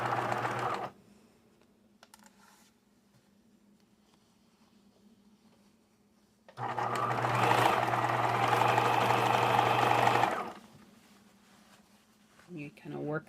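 A sewing machine stitches a patch onto a pair of jeans in two bursts: a short one at the start, then a longer, louder run in the middle, with quiet handling between and a few soft knocks at the end.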